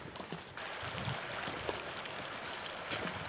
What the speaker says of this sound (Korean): 우리 시냇물 건널 거예요